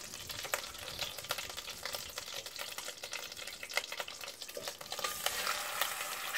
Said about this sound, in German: wenn die Butter schön verbrutzelt ist